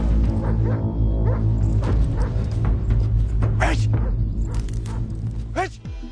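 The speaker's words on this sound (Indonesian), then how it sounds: "Mendengar gonggongan anjing" A dog barks and yips repeatedly in an action film scene, its sharp calls rising over a steady low rumble and dramatic backing music, with a whimpering note near the end.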